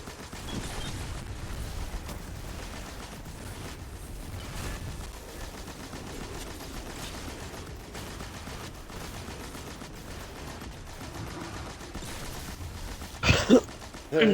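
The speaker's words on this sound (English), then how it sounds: "There's a lot of explosions and everything's dying." Dense, continuous rumbling and crackling video game gunfire and explosions run throughout the Lawnmower Man level, with a sharp, louder burst of bangs near the end.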